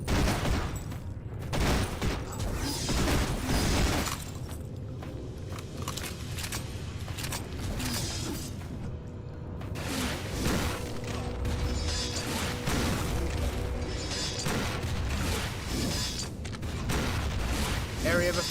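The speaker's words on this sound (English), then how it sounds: "I fucking love these machine guns" Machine gun fire in a necromancer video game, rapid bursts of shots with booming impacts layered over dense game effects, while a player talks throughout.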